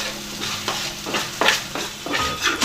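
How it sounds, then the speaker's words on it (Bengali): Onion, green chili and cashew sautéing in mustard oil, with a spoon scraping through the pan in several quick strokes over a close, continuous sizzle. "এবার কষছে জিনিসটাকে, দেখুন পেঁয়াজ, কাঁচা লঙ্কা আর"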